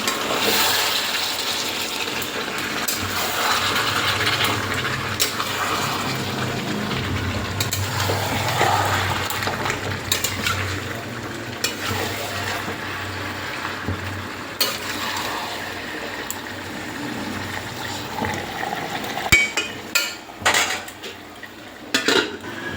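Chicken kosha being stirred in a pan, a steady scraping and clinking of a spoon against metal under a soft sizzle, continuous and close, with sharper knocks of utensil on the pan toward the end.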